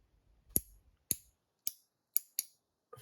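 A bracelet clasp snaps with six sharp, close clicks at roughly half-second intervals, each crisp and isolated against near silence as its button is pushed.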